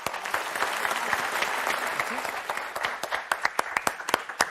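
A studio audience applauds on the French TV game show Motus, a dense wash of clapping that thins toward the end into scattered individual claps.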